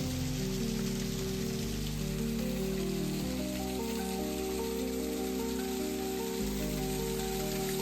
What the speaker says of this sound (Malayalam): പോയ വഴിക്ക് കണ്ട ഒരു ചെറിയൊരു വാട്ടർഫാളാണ് കേട്ടോ അടുത്തത്.